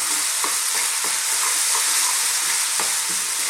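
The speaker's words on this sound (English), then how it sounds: "we're going to cook this on a kind of medium to high heat for about 2 minutes, stirring all the time" Tomato paste being stirred into mince in a hot frying pan, a steady close sizzle with scraping spoon strokes throughout, no voices.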